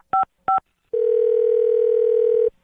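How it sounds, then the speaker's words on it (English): Phone redialing a number: two short touch-tone dial beeps, then a steady continuous ringback tone lasting about a second and a half, clear and isolated. "I'll try to dial the number back"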